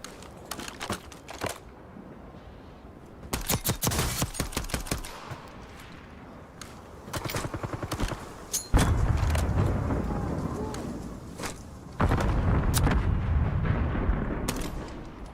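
Video game gunfire crackles in repeated rapid bursts of shots, some close and loud, others more distant, over a steady rumbling background of battle noise.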